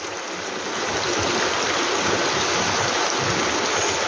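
Steady rain falls outside, a dense, even hiss of water that stays loud and unbroken throughout with no voices over it.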